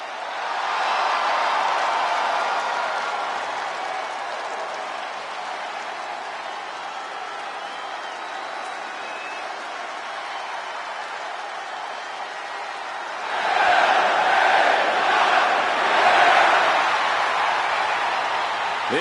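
A crowd cheers in the WWE 2K26 wrestling video game, a broad continuous arena roar that swells near the start, settles to a steady wash, then surges louder again toward the end.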